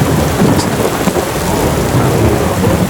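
Heavy rain with rumbling thunder in a thunderstorm sound effect, a loud, dense, unbroken wash of downpour and low rolling rumble, with no voices.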